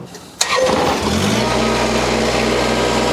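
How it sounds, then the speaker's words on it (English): A Kubota BX 80 series compact tractor engine cranks and catches after a short click, then settles into a steady, close-up idle with a low continuous rumble. "now I'll turn on the tractor"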